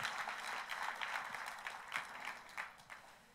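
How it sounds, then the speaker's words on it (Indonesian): A congregation claps during a church service, a soft, continuous patter of many hands heard from a distance that tapers off slightly toward the end. "Tepuk tangannya pula yang paling meriah buat Tuhan kita."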